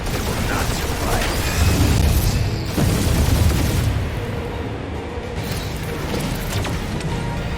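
Explosive weapon barrage during a firefight in the video game Guardians of the Galaxy, with dense booms and sustained gunfire rumbling loudly for several seconds, easing slightly toward the end, with voices heard over the combat.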